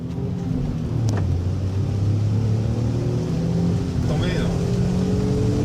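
Hyundai HB20 2016 engine accelerating in the rain, a steady low drone with rising tonal whine that climbs slowly, heard alone and close, no talk.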